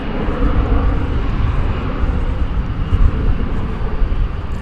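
American Airlines Boeing Dreamliner jet at DFW airport, a continuous loud broadband engine roar rumbling steadily throughout.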